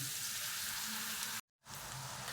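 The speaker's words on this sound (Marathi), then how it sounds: "तेल गरम करत ठेवले आता मी तळून घेते असं सगळं तळून घेते मी" Salted shankarpali dough pieces fry in hot oil with a loud, dense, steady hiss and crackle that is close up, broken by a brief cut to silence before resuming.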